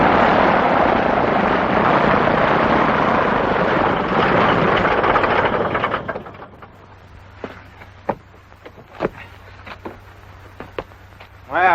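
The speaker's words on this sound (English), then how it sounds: "All right, Captain Midnight, you can have our plane." An aircraft engine roars loud and steady for about six seconds, then cuts off, leaving quiet background with scattered knocks and short bursts.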